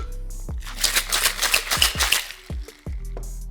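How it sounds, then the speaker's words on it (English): A Mai Tai of orange curacao, lime juice and orgeat is shaken lightly in a cocktail shaker, giving a dense, close rattle of ice for about two seconds, with a few dull knocks of the shaker before and after. No one speaks. "Now shake lightly."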